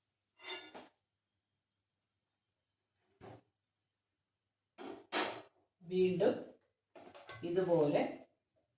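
A metal scoop lifting crisp fried bitter gourd slices out of hot oil: a few sharp scrapes and clinks against the pan come in separate bursts, close and quiet, with silent gaps between them.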